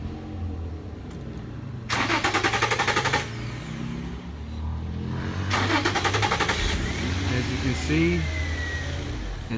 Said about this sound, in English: we're gonna crank the engine